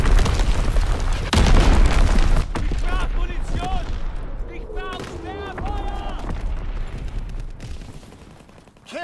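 Mortar rounds exploding during a Call of Duty WW2 Ardennes Forest battle: a heavy boom early on followed by scattered distant blasts and gunfire, under radio-style voice callouts and tonal game effects.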